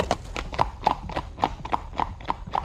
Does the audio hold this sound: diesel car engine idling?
no